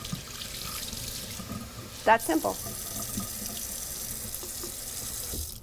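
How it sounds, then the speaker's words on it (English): Tap water running through the upturned filter of a Tupperware cold brew coffee carafe at a sink, a steady close wash with a brief splashy burst partway through and a short spoken remark over it. "I'm going to turn it upside down and just let the water run through."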